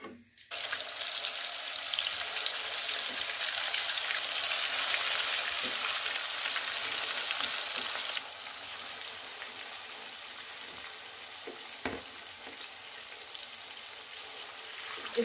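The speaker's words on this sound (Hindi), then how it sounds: "इसी तरह से हम चिकन फ्राई कर लेंगे इसको" Chicken pieces frying in hot oil for a Karachi biryani, a steady loud hiss and sizzle that drops to a lower, even crackle partway through, with a few faint clicks.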